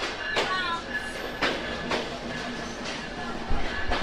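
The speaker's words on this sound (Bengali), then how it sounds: "যশোর রেলওয়ে জংশনের 1 নম্বর প্ল্যাটফর্মে প্রবেশ করলো আন্তনগর সুন্দরবন এক্সপ্রেস" Sundarban Express intercity train, hauled by locomotive 6639, rolling into platform 1 at Jessore railway junction, a low rumble broken by several sharp clattering wheel bursts at irregular intervals.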